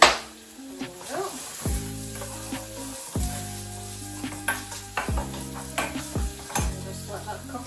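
Garlic fries in a pan for homemade salsa, a soft steady sizzle broken by repeated scraping and stirring clatter of a utensil against the pan, close and moderately loud.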